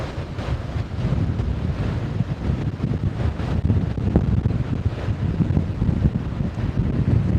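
Strong wind on a stormy beach in Anapa roars and buffets steadily, a dense low rumble with gusting surges throughout, no voices.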